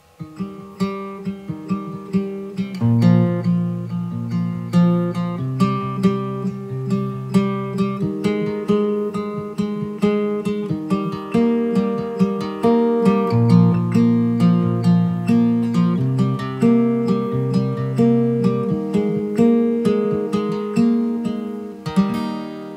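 Steady fingerpicked acoustic guitar, a bass note alternating under plucked higher strings in a repeating pattern with changing chords, clear and close with no talking.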